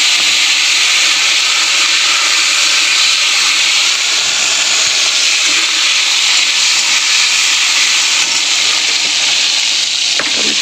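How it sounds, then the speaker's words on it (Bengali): Whole cardamom and chopped tomatoes sizzle in hot oil, a loud steady hiss that holds without a break from start to finish. "এখানে তেলের মধ্যে দিয়ে দেবো গোটা এলাচ, দেবো কেটে রাখা টমেটো"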